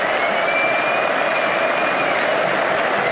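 Football fans applauding in a stadium at the 2019 FA Cup Final, Manchester City supporters clapping for Watford fans: a dense, steady wash of clapping from a huge crowd, loud and continuous throughout with no talk.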